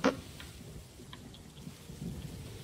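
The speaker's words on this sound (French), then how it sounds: "Alors là, voilà, il y a une petite tempête." Stormy weather at sea in Sea of Thieves: a sharp thunder crack at the very start, then steady rain hissing and pattering, quiet and continuous with no voices.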